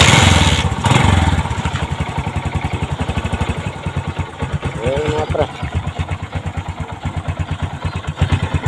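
A Bajaj CT 125 motorcycle engine runs nearby with a steady, rapid single-cylinder putter and some mechanical clatter, while someone talks over it.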